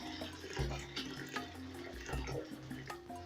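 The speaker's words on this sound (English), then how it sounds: "Then I'm going to add my water." Warm water runs from a tap-like stream onto raw lentils in a cooking pot, a steady close splashing pour lasting a few seconds with faint background sounds.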